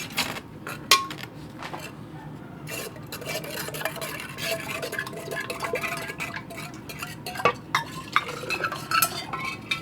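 Water is stirred into metallic sludge from gold-corner BGA IC chips during gold extraction, giving steady scraping and swishing with scattered small clinks of a utensil against the container. The sound is close and continuous, with no voices.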